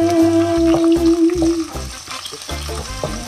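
Food sizzling and being stirred in a hot pan for a Filipino seafood dish, a loud continuous fry with clinks of a utensil and a brief tonal hum.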